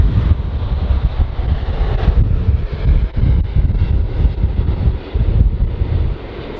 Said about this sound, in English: let us get ready to say hello to United Airlines 802 from Hong Kong in their 4-year-old Dreamliner Dash 9